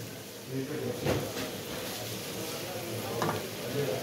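Chopped bell pepper goes into a sizzling pan for a crispy potato snack. A continuous moderate frying hiss carries two sharper stirring or tossing bursts, and no one speaks.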